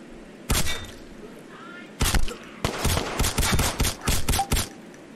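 Gunfire in the video game Lone-Wolf: an isolated shot, then a longer cluster of sharp rapid reports in uneven bursts, loud against a quiet background.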